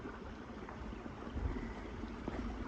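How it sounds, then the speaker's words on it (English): A creek along a forest hiking trail flows steadily, giving a soft, low rushing wash that stays at a constant level with slight swells and no voices. "Creek."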